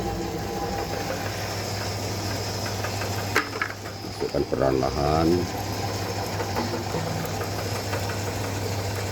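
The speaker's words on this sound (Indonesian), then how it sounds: "dengar bunyi mesinnya" A feed pellet-making machine runs with a steady mechanical hum and rattle while chicken feed is slowly fed in, the drone continuous throughout; someone speaks briefly partway through over the machine.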